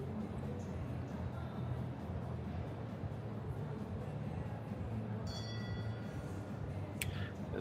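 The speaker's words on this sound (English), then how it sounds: "There's the bell." A bell signalling during a 1.55m show jumping qualifier in Leipzig, heard as a brief bright ring late on over steady arena crowd noise and commentary.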